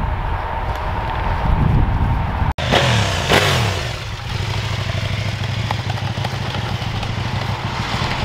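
A trail motorcycle engine revs as the throttle is worked, rising and falling close by with a sharp click partway through, then settling into a steady running drone.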